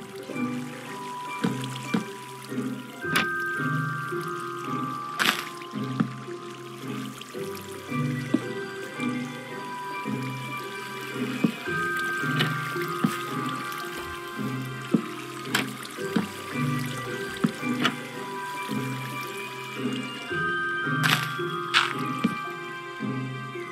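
Water from a bucket sloshes and drips in Minecraft, a steady wet squishing and dribbling loop with soft splashes repeating throughout, close and moderately loud.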